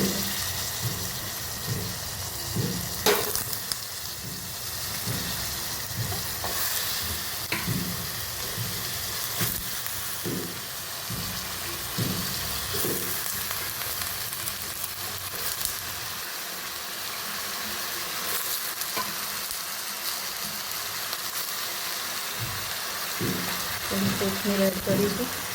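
Eggplant and potatoes sizzle in a pan of spiced vegetable curry, with steady frying hiss and intermittent scraping stirs throughout, close and moderately loud, occasional brief voice in the background.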